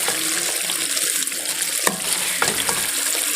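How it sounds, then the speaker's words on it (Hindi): Potatoes and eggplant sizzle in a pan of ghee for an aloo baingan curry, a loud, steady crackling fry close up with occasional stirring scrapes. "अब मैं इसको मज़ीद 4-5 मिनट तक और भून लेती हूँ।"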